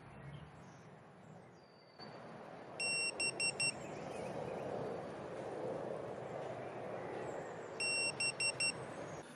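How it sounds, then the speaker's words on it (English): An ISDT BC-8S lithium battery checker sounds its location alarm as two clusters of short, high, crisp beeps several seconds apart over a steady low background rumble. "The double beep means that the location alarm has been activated."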